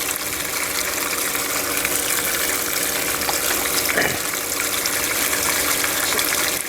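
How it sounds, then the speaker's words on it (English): Water pours continuously through a homemade sluice box used for gold sluicing at home, a loud, steady rushing gush that stays close and even throughout, with no talking. "It's nice to hear the sound of water."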